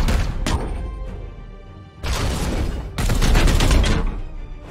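Gunfire in the video game Warhammer 40,000: Chaos Gate Daemonhunters, loud heavy bursts of shooting with booming impacts, breaking into three separate volleys with short lulls between them.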